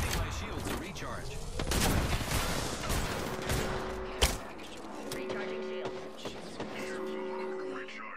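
Gunfire in the video game Apex Legends, rapid bursts and single sharp shots mixed with game effects, loud up close and fading into scattered shots and tones.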